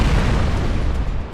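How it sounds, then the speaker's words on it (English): Tank ammunition compartment on a Russian tank exploding in a massive blast after fire spreads, a loud, rumbling boom that fills the whole stretch and fades slowly, with no voices. "A Russian tank crew abandoned their vehicle as fire spread to the ammunition compartment,"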